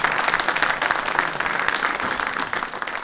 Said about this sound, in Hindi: आप भी शामिल होइए, ये तालियां आपके लिए हैं।